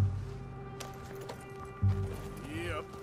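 Horse hooves clip-clop steadily in the Red Dead Redemption video game, a muffled rhythmic trot under game ambience, with a short neigh-like sound near the end and a voice talking over it.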